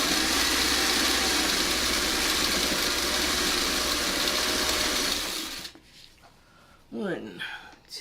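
Sewing machine stitching a quarter-inch seam on a whirly gig quilt piece, a fast, even mechanical whir running close and steady for over five seconds before stopping, then a short spoken comment.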